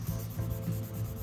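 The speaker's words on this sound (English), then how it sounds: "just keep sanding." Wet sanding of car window trim by hand: steady rhythmic back-and-forth rubbing strokes, close and continuous, with a gritty scrape roughly every third of a second.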